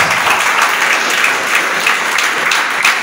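A church congregation claps steadily and briskly for about three seconds, a dense, even applause that fills the room without any voice over it.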